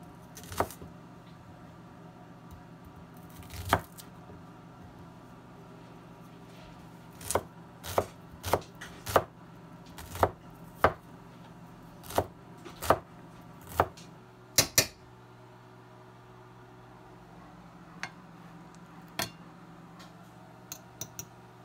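Shallots being chopped on a board with a knife: about a dozen sharp, separate knife strikes, mostly spaced irregularly over a low background hum, with a few faint taps near the end.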